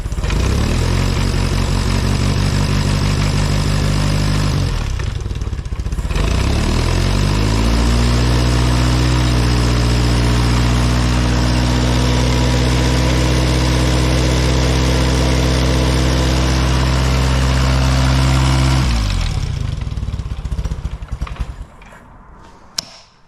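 A pre-war Riley Brooklands engine runs loud and steady close by, its idle dipping briefly then settling into an even, throbbing note for a long stretch before cutting off, followed by a few faint clicks.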